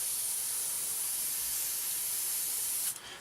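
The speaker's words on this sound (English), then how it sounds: "so now just test the spray." An airbrush test-sprays primer with a continuous, even hiss of fine spray close by, holding steady before cutting off sharply near the end.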